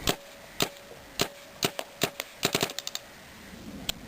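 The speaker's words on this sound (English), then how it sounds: "Just gonna be doing some more test shots" Xtralator paintball gun firing test shots at a target, a string of sharp, separate pops: a few spaced shots, then a quicker cluster of about six, then one last shot, close and loud.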